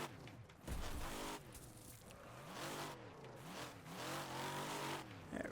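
A modded car in the Wreckfest racing game revs hard, its engine note climbing and falling in repeated sweeps. The sound is steady and fairly close, with no talking over it.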